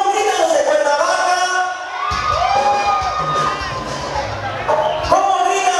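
A loud party crowd shouts and cheers continuously at a first-birthday celebration in Coacoyula, Guerrero, with children's voices, whoops and a dense wall of noise that swells again near the end.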